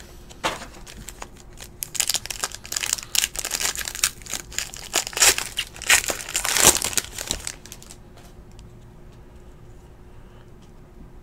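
A foil pack of 2017 Panini Nobility soccer trading cards being torn open and handled, a burst of loud crinkling and crackling wrapper noise with sharp snaps, settling into quieter rustling at the end.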